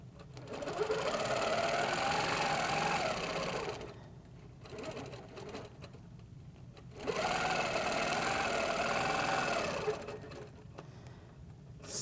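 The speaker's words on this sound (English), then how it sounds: "Now I'm going to stitch a straight line along there." A Handi Quilter sewing machine stitches a straight line in two fast, whirring bursts of a few seconds each, separated by a quiet pause, close and fairly soft.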